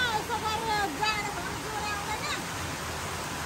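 Heavy monsoon rain pours down in a steady, dense roaring hiss outdoors, with people's voices talking over it.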